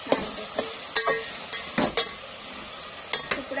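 Garlic fries in a pan with a steady sizzle, broken by repeated sharp scrapes and clinks of a spatula stirring, close up and with no talk.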